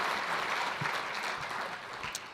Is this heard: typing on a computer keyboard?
no